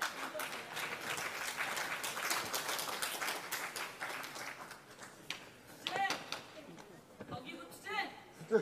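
Applause from an audience at a National Assembly emergency rally in Korea, a dense wash of clapping that thins after about five seconds into scattered claps, with brief voices over it.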